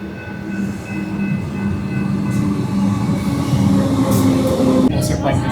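A train runs along the rails with a steady low rumble and faint clatter, heard from inside a car, with loud music and a few voices mixed in over the noise.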